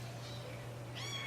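A small kitten, likely born to a feral mother, gives a short, faint, high meow near the end over a steady low hum.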